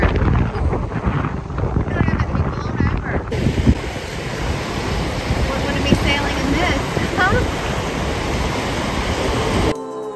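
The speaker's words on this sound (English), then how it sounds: "Seriously windy here." Strong wind buffets the microphone at Fort Augustus by Loch Ness at sunset, a loud continuous roar with gusting surges that fills the whole clip and cuts off abruptly at the end.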